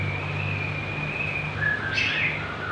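Small songbird such as a canary chirping softly, a thin steady tone with a brief brighter trill near the end, alone over low background hum.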